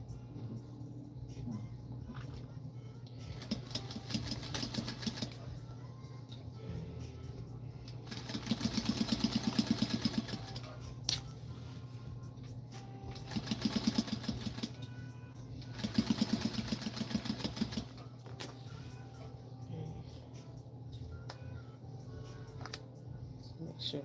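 Domestic sewing machine stitching a 5/8 inch seam allowance on a dart, in bursts of rapid, steady motor whir around 8–10 s and 16–18 s, with a low constant hum and quiet talk between runs.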